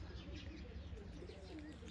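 High flyer pigeons coo softly in low, throaty murmurs outdoors near trees and wires, with faint chirps and a hint of wing flaps over a steady low hum.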